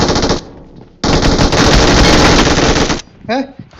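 Rapid automatic gunfire from a video game firefight, loud bursts of machine-gun fire filling most of the moment after a brief opening burst, with a short voice near the end.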